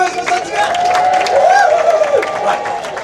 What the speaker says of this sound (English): we need support and a big round of applause now